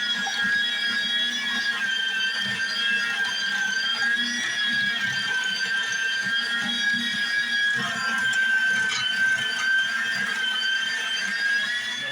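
A meat grinder runs steadily while grinding beef top round, making a loud, constant motor whine with a high tonal hum that holds unbroken throughout.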